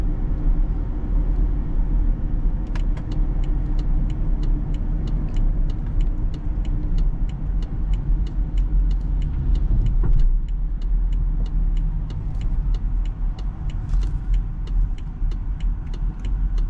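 A BMW 328 with an N52 engine driving along, a steady engine and road drone heard from inside the car, with faint ticking clicks running through it and no talk.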